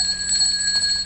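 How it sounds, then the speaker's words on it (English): A single altar bell rung gently at the sanctus of a Latin Tridentine low Mass, one soft sustained ring with a steady bright tone that lingers evenly, close by and alone. "The server rings the bell 3 times at the sanctus."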